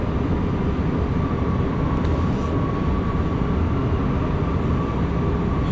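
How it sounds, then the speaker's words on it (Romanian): Bucharest metro train riding through the tunnel from the Drumul Taberei line, a steady loud rumble and rush of wheels and motor filling the whole ride with no voices. "Prima mea călătorie în metro. Metrou din drumul Taberei."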